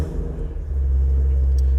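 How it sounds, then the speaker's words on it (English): A 2021 Mustang GT350 engine turns over and catches via start button in neutral, settling into a low, steady rumble that swells and holds, close by. "And that's how you start the car."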